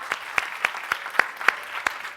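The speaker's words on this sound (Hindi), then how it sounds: "आइए इन सब लोगों के लिए तालियां बजाएं जोरदार" A church congregation at a Sunday morning service claps in a slow, even rhythm, about eight distinct sharp claps over a soft background hum.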